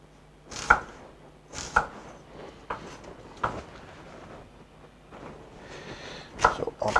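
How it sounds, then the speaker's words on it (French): A knife chops onions on a board, with sharp separate cuts landing about once a second, close and crisp against a quiet kitchen background. "So we're going to cut them in slices."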